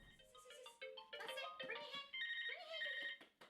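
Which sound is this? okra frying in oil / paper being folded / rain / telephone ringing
telephone ringing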